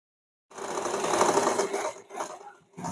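A sewing machine stitches the shoulder seam of a blouse, running steadily at close range for about two seconds, then slowing into shorter bursts with brief pauses.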